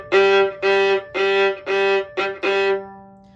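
A violin plays six short repeated notes on one pitch in a bouncy, syncopated eighth-note pattern, the last two closer together, then a brief ring-out.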